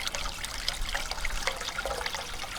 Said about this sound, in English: So that valve controls the flow of the water into the trap.